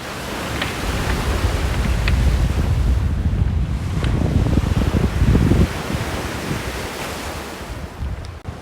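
Ocean waves crash over a sea wall on a rocky, slippery shoreline, a loud continuous surging roar with heavy wind buffeting the microphone and bigger surges building around the middle.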